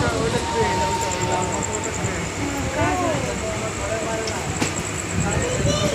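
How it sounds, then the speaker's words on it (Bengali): A train pulls into the Howrah station platform with loud, continuous rumbling and rolling noise. Metallic squeals and screeches rise over the rumble. "হাওড়া প্ল্যাটফর্মে ঢুকছে আমাদের ট্রেন।"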